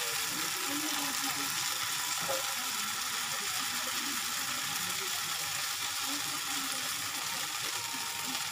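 Uttapam batter spooned onto a hot oiled pan and spread out, giving a steady, close, even sizzle that runs throughout with no talk.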